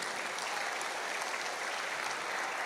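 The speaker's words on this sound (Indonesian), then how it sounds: "Tepuk tangan untuk NKRI." Applause from an audience at a talk in Indonesia, a dense, steady wash of many hands clapping at moderate volume, continuous and evenly sustained throughout with no voices standing out.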